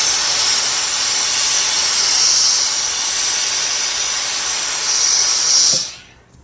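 A steam iron blasts steam into a fabric sleeve as it is pressed and shaped, giving a loud, steady, close hiss that holds for about six seconds, swells near the end, then cuts off abruptly.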